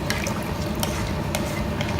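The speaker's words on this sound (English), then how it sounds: "I'll probably add more water" Water pours steadily into a casserole pot for a noodle soup, a continuous close splashing fill with no break and no talking.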